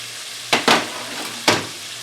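Shrimp frying in a pan over a burner turned down to medium, a steady broadband sizzle with three sharp bursts of crackle and spatter, close and moderately loud, no talking.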